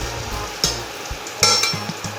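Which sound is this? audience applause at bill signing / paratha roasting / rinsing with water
paratha roasting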